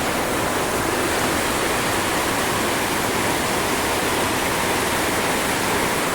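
Heavy monsoon rain pours in Kalimpong while runoff rushes across a road, a loud, steady, dense roar of falling water and flowing torrent with no break throughout.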